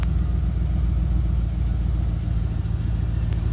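A 2012 Chevy Tahoe's engine idles steadily after being cranked, a continuous low rumble running close and loud throughout, with a faulty oil pressure gauge and check engine light noted.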